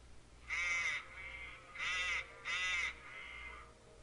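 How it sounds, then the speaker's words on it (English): Crows cawing in a short series of three harsh, drawn-out calls with brief trailing notes, fairly close and clear over a low steady background hum, no voices present. "The crows cawing we hear this sounds almost sounds human."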